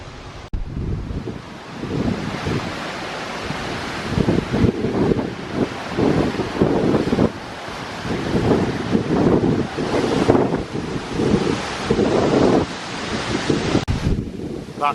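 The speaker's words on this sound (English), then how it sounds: "That bad bit of filming was the wind blowing me, it's so strong." Strong outdoor wind buffeting a microphone, with loud, uneven low rumbling gusts that surge and drop repeatedly over a constant windy hiss.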